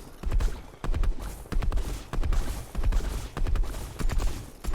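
Bursts of AUG rifle fire in Fortnite come in quick rhythmic volleys of sharp cracks, loud and close. About seven clusters repeat at a steady pace and no one speaks.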